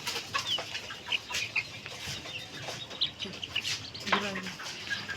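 Black-meat chickens with silkie-like crests and feathered feet clucking and cheeping nearby, scattered short calls with a brief louder cluck, alongside faint background noise.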